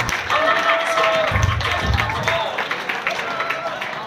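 Audience applause at an education awards ceremony, a dense wash of clapping from a crowd that gradually thins out, with some voices underneath.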